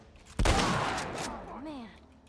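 A sudden burst of gunfire in the video game The Last of Us, one sharp loud blast that rings out and decays, followed by a voice.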